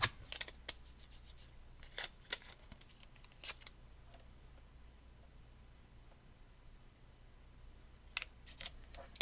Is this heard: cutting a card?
yes